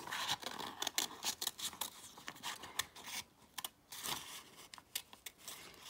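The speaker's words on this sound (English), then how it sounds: "So I am going to cut them out." Scissors snip through coloured paper shapes nearby, a quiet run of short irregular cuts and light rustling of the paper, with brief pauses between snips.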